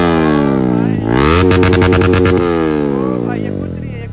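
A Yamaha R1 and another motorcycle rev loud and close together, engines rising and falling with a rapid pulsing burst in the middle, the tone fading slightly toward the end.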